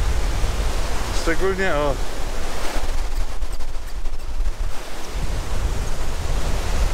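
Wind gusts roar in the mountains near Mestia, Georgia, a loud rushing buffeting across the microphone, with a brief voice speaking early on over the blowing.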